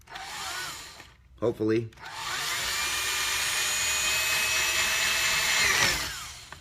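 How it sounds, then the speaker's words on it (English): A power drill with a bit bores through a side wall during a lithium battery install. It whines steadily and loudly for several seconds after a brief spoken word, then stops. "we're just gonna take this drill bit and we're just gonna drill through this side wall here"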